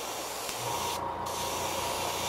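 A paint spray gun running at about 20 psi hisses continuously as it coats a blank fishing lure, a close, even airy spray with no pauses and no voices.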